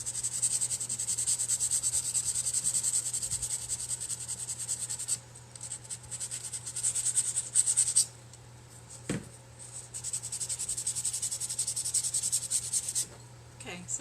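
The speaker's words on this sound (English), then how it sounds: "we're going to take our sandpaper, which is 150 grit, which is just what I had on hand, and then we're going to sand down the 3 sides" Wood sanded by hand with 150 grit sandpaper for a firecracker home decor piece, a steady close scratchy rubbing that runs continuously with brief pauses and changes in stroke.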